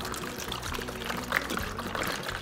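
Water pours steadily into a bowl to soak napa cabbage for kimchi, a continuous splashing stream at close range with no talking.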